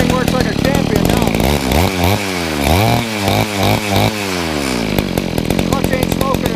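Small two-stroke chainsaw engine on a homemade chainsaw-powered bike, revving up and down in repeated sweeps then settling into a loud, buzzing idle, close by, with someone talking over it.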